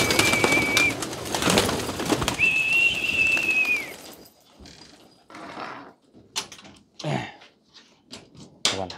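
Loft pigeons released on a damp day coo and flap their wings, a loud opening stretch followed by scattered wing bursts and rustling.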